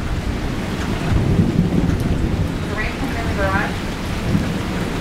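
Heavy rain pours steadily during an Iowa thunderstorm while low thunder rumbles through, building and fading in long rolls; the downpour stays close and dense throughout, with no talking.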